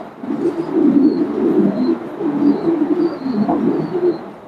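Pigeons coo continuously at a pigeon shop in Uttara, Dhaka, with many soft, overlapping throaty calls and no voices.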